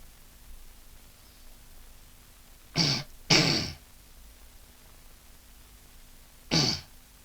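Three short, harsh throat clearings, the second the longest, stand alone against a quiet background hum, with a long pause before the last one.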